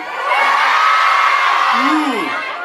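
A large crowd screams and cheers loudly and continuously at a film meet-and-greet in Jogja, with a rising and falling whoop standing out near the end.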